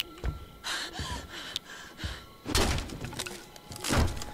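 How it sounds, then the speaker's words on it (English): Panting, heavy breathing from a character hiding under a bed in the Friday the 13th video game, loud gasping bursts repeating in an irregular rhythm with a few thumps mixed in. "That's a lot of heavy breathing."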